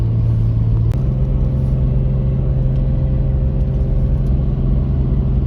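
A Toyota 1HD-FTE turbo diesel engine, fitted with new injectors, drones steadily while towing uphill over a saddle in second gear with the transmission locked. The rumble is loud and continuous from inside the cab, with one brief click.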